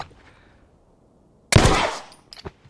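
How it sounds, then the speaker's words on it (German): A single loud gunshot from a weak handgun in The Last of Us, a sharp broadband crack followed by a short decaying tail, then two faint clicks or thuds. "Jetzt haben wir einen Schuss verschwendet."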